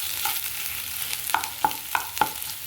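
Boiled potatoes tumble into frying onions and are stirred with a utensil, giving several distinct clanks and scrapes against the pan over a steady soft sizzle, with no talking.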